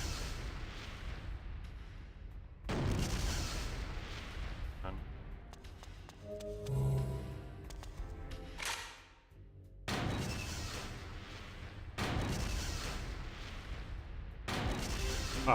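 Booming gunshots fired in the video game Killer7 land as several loud, broad blasts with long rumbling tails, separated by quieter game noise and a brief tonal passage midway.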